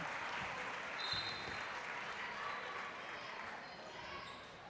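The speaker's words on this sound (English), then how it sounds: "Starters get a nice round of applause." Crowd applause in a gym at a high school girls' basketball game, Baldwin Bulldogs vs. Paola Panthers, a steady wash of clapping at moderate level lasting several seconds, with faint scattered sounds underneath.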